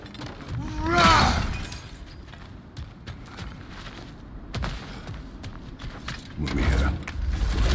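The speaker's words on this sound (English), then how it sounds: "back to smashing through things for fun and profit." Objects and debris smashing and shattering in God of War Ragnarök, with a loud crashing burst near the start and another toward the end, among game sound effects and background activity.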